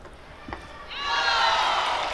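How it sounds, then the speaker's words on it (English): A section of fans cheering at a badminton match during the 2025 US Nationals, a crowd roar swelling up after a brief thump and holding steady at moderate distance. "And you hear the cheering section of Liu getting animated this game."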